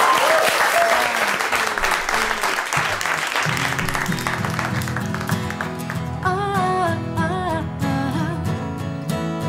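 Studio audience on a Dutch television talk show bursts into loud applause, dense clapping in the first seconds that fades as band music with bass and sustained tones takes over.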